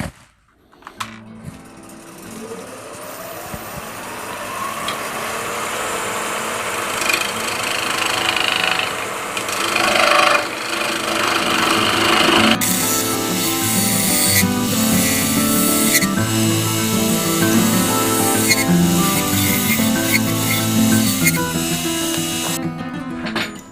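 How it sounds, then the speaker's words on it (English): Steady whirring of a wood lathe with a spindle gouge cutting, loud and continuous, with scraping and chattering texture throughout, briefly pausing near the start. "I'm just going to use a spindle gouge and then true that up a little bit"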